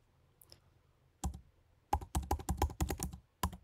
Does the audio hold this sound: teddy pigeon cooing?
no